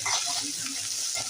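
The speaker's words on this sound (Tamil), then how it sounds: "இது நல்லா வதங்கட்டும்" Oil sizzles and crackles steadily in a pan as onions with curry leaves and salt fry for a mutton dish, a close, continuous hiss with faint stirring scrapes.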